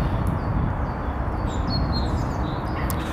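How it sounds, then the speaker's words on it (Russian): Pigeons in an outdoor setting, their soft calls and a few brief chirps sitting faintly over a steady, loud rumbling background noise. "Голуби страх потеряли совершенно."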